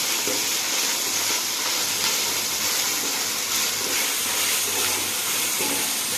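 Curry leaves sizzling in hot oil for egg fried rice, a steady dense hiss that continues without a break, close and fairly loud, with no voices.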